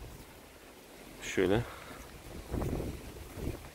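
Gusty wind blows across an outdoor walnut sapling field near Bandırma, Balıkesir, a steady low rumble of buffeting with a brief vocal sound and some handling noise over it.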